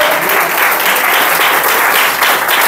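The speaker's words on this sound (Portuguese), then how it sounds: "E você pode aplaudir a terra." A church congregation applauds in dense, loud, continuous clapping that fills the room with no pauses throughout.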